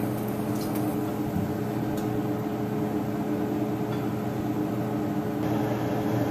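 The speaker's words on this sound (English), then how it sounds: "Go ahead, fry that in the oil" A chimichanga fries in hot oil, giving a steady close sizzle and hiss with faint crackles throughout, unchanged in level and with no one talking.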